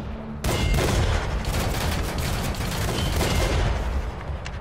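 Gunfire in a video game: a dense, loud, continuous crackle of shots and booms that begins abruptly and keeps going for the rest of the clip, with no speech.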